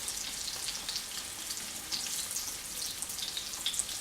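Peas and ricotta fritters fry in a pan with a steady, close sizzle, a dense crackling hiss that holds level throughout with small spitting pops and no voices.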